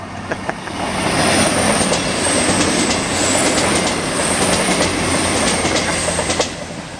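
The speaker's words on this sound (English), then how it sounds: "here we have a train coming through" A train rumbles steadily past close by through Alstone level crossing, with clattering wheels, rattling and high metallic squeals over a continuous roar.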